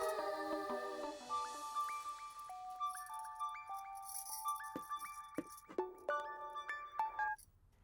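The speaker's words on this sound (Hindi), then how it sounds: "रिंग बज रही है, जाओ।" A phone ringtone chimes a bright stepped melody that climbs and repeats for several seconds, moderately loud, with faint clinks and rustling near the end.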